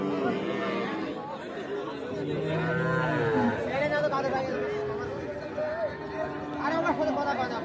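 A Deshal breed cow, sold with her calf, moos at a cattle market, with drawn-out lows rising over a constant babble of nearby voices and crowd chatter.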